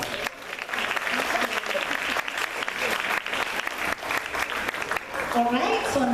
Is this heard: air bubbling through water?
no